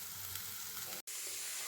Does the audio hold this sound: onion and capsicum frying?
yes